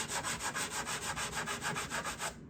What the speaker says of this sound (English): I'm not sanding just finish, I'm actually sanding the top here as well